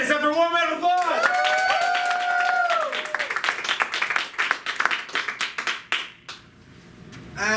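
Audience applause at an improv theater rises from a sung, stretched voice into clustered claps and whoops, dense at first and then thinning into scattered hand claps before fading.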